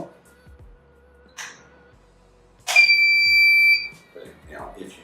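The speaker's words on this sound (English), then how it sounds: "once we make contact with the last battery, we should hear an audible alarm telling us that the unit's powered on." A Plumbspec Mildred valve sounds a shrill, steady electronic beep for about a second as its battery is connected, heard close and alone between faint handling clicks and rustles.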